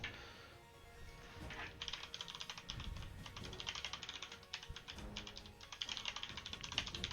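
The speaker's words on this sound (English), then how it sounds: "I'm typing here." Steady clatter of keys on a computer keyboard, a dense run of quick taps with brief pauses, close and moderately loud over a low background hum.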